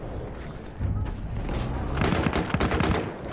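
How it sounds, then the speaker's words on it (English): Battlefield 1 gunfire crackles in rapid bursts, shots coming thick and close together, louder in the second half, amid game explosions and noise. "Oh, I'm shooting him"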